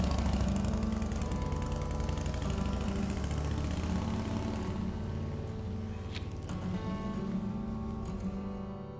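Motorcycle engine running steadily and fairly loud for the whole stretch, a low mid-range drone that eases slightly toward the end, with no talk over it.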